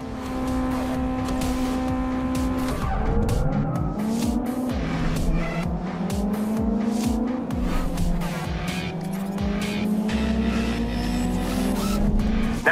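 Race car engines and tire squeal in the GT Racing 2 video game at a Montreal classic race, loud revving engines climbing through gears with whining squeals throughout, no talk.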